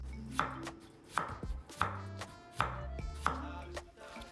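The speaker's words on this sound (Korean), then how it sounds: "가시오이는 씻을 때 잘 문질러주면 가시가 제거되니까 껍질채로 잘 썰어주면 된다." A knife slices a prickly cucumber with its skin on against a cutting board, five crisp, evenly spaced chops landing close and clear in a slow, steady rhythm.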